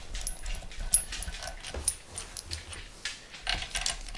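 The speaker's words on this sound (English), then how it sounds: "There's a dog in the background" A dog whimpers and yips softly in the background of a workshop where a TVR Speed Six cylinder head is being stripped, with short faint whines scattered across a quiet scene.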